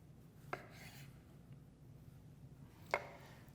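A knife cuts the ends off a cucumber, making two crisp, separate chops about two seconds apart that sound faint and close in a quiet room.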